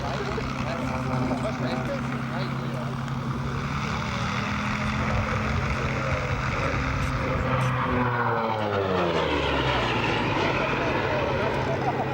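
A propeller-driven B-25 bomber flies past at an air show in Saint André de l'Eure, its steady engine drone continuous and loud throughout, mixed with crowd and commentary voices.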